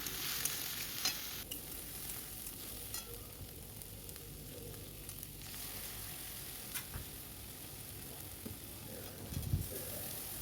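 Fish curry with a cashew and fennel paste stirred and frying in a pan, a steady sizzle broken by occasional spoon scrapes and taps, fairly close and without talk.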